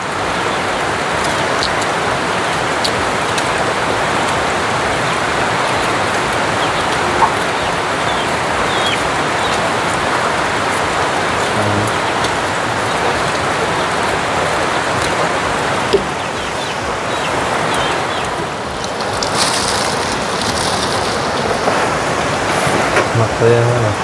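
Steady rain falls outdoors on a mountain trail, a dense even hiss filling the whole stretch, with faint birds and people talking now and then underneath.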